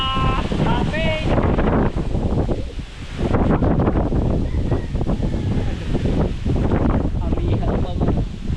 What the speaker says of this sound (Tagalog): Ang lakas din ng hangin.